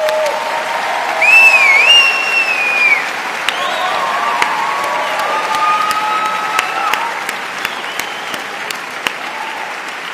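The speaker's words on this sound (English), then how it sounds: "first we're going to give the clap to the students graduating" Audience at the Soka University of America 2015 commencement ceremony applauding graduating students, sparse scattered claps under a sustained whistle-like tone and faint background murmur, fairly distant.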